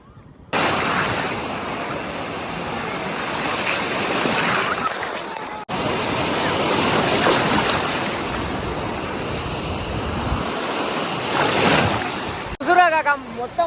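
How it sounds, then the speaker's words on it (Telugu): Big ocean waves break on the beach at Machilipatnam with a loud, continuous rushing surf and wind noise buffeting the microphone, briefly cut off midway, ending in a short burst of other sound. "పెద్ద పెద్ద అలలు వస్తున్నాయి"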